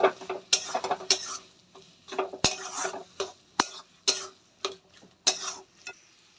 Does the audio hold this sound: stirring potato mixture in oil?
yes